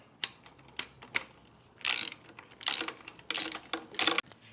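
A clamp is fitted onto the exhaust of a 2022 KTM Duke 890R motorcycle during catalytic converter removal, giving sharp metallic clicks and ratcheting, scraping bursts at close range, irregular and fiddly.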